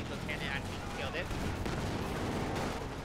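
Gunfire and cannon blasts in the WWII strategy game Company of Heroes 2, from a machine gun or a Tiger tank's 88mm cannon, heard as a steady crackle of distant shots and rumbling battle noise under quiet game effects.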